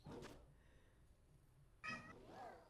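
A cat meows loudly near the microphone during a game stream, one sharp cry at the start and a longer, rising-and-falling meow later, with quiet background between.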